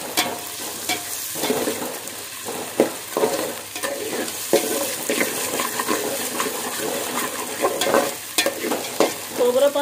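Ingredients roasting in a pan for dhondas, a poppy-seed dish, give off a steady sizzle with frequent scraping stirs at close range and no voices.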